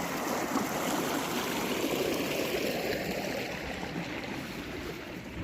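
Irrigation water for a second watering of a sixty-day-old wheat field flows steadily through a channel, a continuous, close, rushing gurgle with no pauses.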